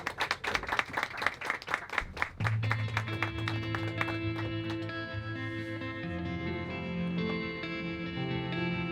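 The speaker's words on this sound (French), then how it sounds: "applaudissez" Crowd applause at an album release party after a song dedication, a burst of many hands clapping at close range for about two seconds before giving way to sustained music.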